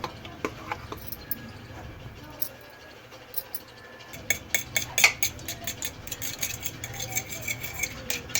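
Egg and yogurt beaten together on a plate with a utensil, giving rapid light clinks and taps against the plate in uneven bursts, fairly close and soft, with a quieter pause partway through.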